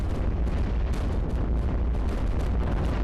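Cannon fire in the iBomber Defense war game rumbles in dense, heavy booms that overlap into a constant loud barrage with no pause for the whole stretch.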